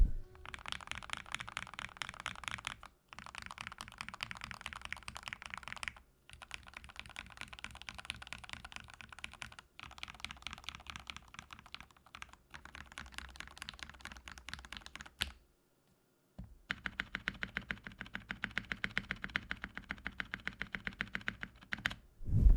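Someone types on a custom Feker IK75 mechanical keyboard built for a deep thocky sound, with bursts of rapid close clicks separated by short silent pauses and no talk.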